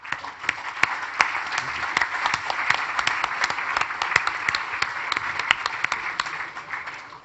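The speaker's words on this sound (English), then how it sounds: "please applaud and thank to this panel" A conference audience applauds a panel at an opening session, producing a continuous, even patter of many hands with a few sharper individual claps standing out.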